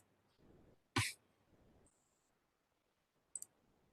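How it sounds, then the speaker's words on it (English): A single sharp computer mouse click in a quiet room, near and brief, followed by a few faint scattered sounds and a small double tick later on. "So let me just click it."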